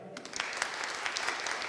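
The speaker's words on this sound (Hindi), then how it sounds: "तालियां बजानी है आपने" Congregation at a church fellowship meeting clapping together, a brief dense patter of applause at moderate distance, fairly soft.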